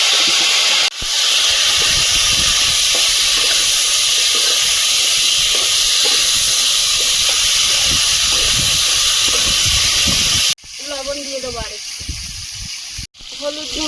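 Raw jackfruit tipped into a hot pan with half-fried potatoes sets off a loud, steady hiss of sizzling oil that lasts about ten seconds. It then drops away abruptly, leaving quieter frying under a voice.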